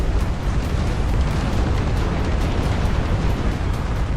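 A continuous loud roar of artillery explosions in the Dust Front real-time strategy game, with booms blending into a dense rumbling barrage throughout and no clear gaps.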